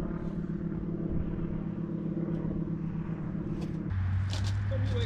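A Yamaha 900 motorcycle engine rumbles at a low, even idle nearby, then shifts abruptly to a deeper, steadier tone partway through.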